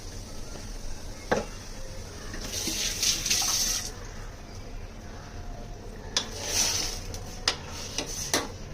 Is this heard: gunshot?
no